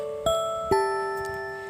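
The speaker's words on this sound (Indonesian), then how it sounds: "tiba-tiba terdengar suara bel peringatan yang membuat palang pembatas turun" Two clear metallic dings from a railway level crossing warning bell, struck about half a second apart, each ringing out with a long sustained decay in a quiet setting.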